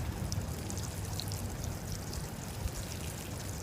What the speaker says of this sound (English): I make sure that I water in my pansy seeds that I dropped earlier.